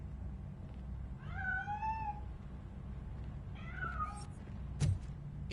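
Cat meowing in the RoboCop: Rogue City video game on PlayStation 5, with two drawn-out rising-falling meows over a low hum of game ambience, then a brief thunk near the end.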